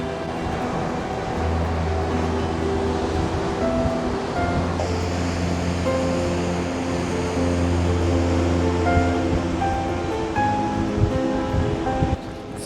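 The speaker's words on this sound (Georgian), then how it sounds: "აქ რა გიჟი ოკეანია" Atlantic ocean waves surge and crash into wave-cut sea caves on the Madeira coast, a steady loud roar of surf with wind noise throughout and no voices.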